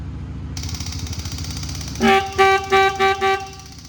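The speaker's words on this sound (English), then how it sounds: "The horns work." An electric horn on a three-wheeler ATC gives four short, loud beeps in a quick uneven run, following a low idling engine rumble.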